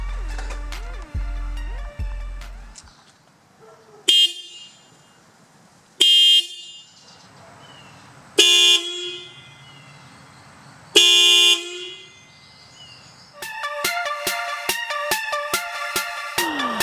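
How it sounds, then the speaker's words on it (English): A $20 aftermarket loud car horn fitted to a 2017 Toyota Corolla SE gives several sharp blasts, a couple of short toots and then longer honks, spaced apart, ending in a rapid run of bursts, loud and close. "that's the horn. This is louder than the stock one"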